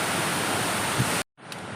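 Turga waterfall in Purulia roars as a steady, dense rush of falling water, then breaks off abruptly for a moment before resuming more faintly.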